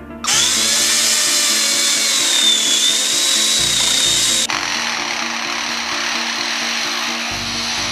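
A lyrebird imitates a chainsaw cutting trees: a loud, continuous mechanical whine holding steady and then dropping in pitch partway through.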